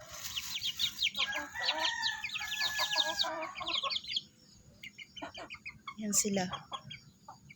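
Chickens cluck and chatter close by in a yard, with several overlapping birds and a brief louder squawk, while someone speaks briefly over them.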